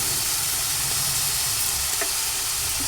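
Tomato pieces and masala fry in a pan for a prawn curry, giving a loud, steady sizzle with a brief stirring scrape partway through and no talking.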